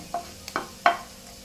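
Cumin seeds roasting in a hot pan, heard as three short crackling scrapes and sizzles, fairly quiet and close, with no voice.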